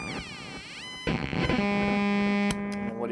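Sitori Sonics Tapeworm effects pedal producing warbling, sweeping synthetic tones, then a loud distorted sustained pitch with wobbling modulation and abrupt cut-offs, close and alone.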